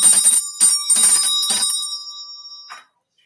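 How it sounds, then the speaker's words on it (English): Small bell dinged several times in quick succession, bright ringing strikes close by, followed by a fainter single ding and then silence. "Fairies would like for me to ding my bell."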